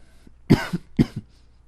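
Two sharp, close coughs a half second apart, each followed by a small rasping catch of the throat, in an otherwise quiet room.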